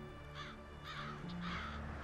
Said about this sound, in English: Crows are always watching, learning, and remembering.